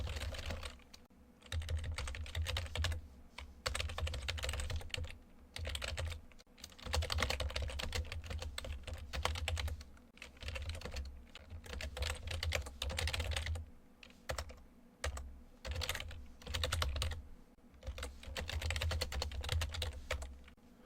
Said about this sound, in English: Hopefully they will see my typing.